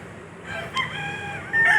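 A gamecock rooster crows on a farm, one clear call rising out of the quiet outdoor background and ending strongly.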